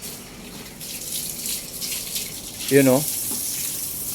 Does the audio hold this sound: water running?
yes